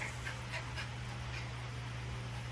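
A dog pants quietly in quick, faint puffs over a steady low hum, with a few soft whimpers early on and no talking.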